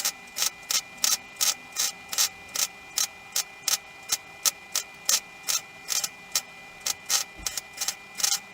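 Rapid ratchet clicks come in regular bursts, close and loud, while a Koni shock absorber is removed from the wheel arch of a Classic Mini. No voices.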